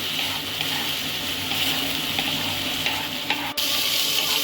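Ginger, garlic and chili paste fries in a pan while being stirred, a steady close sizzle with faint scraping running throughout, with no talking.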